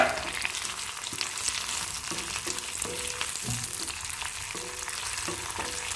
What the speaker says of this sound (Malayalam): ഈ സവാള വഴറ്റുന്നതോടൊപ്പം നമുക്ക് ഉഴുന്ന പരിപ്പും വറ്റൽ മുളകും ചേർക്കാം.